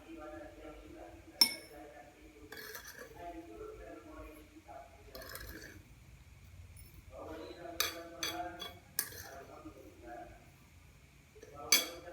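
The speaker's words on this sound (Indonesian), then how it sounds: "Kita masukkan gula ke dalam gelas." Sugar is spooned into a drinking glass, giving scattered light clinks and taps of metal on glass, some sharper than others, while a voice talks throughout.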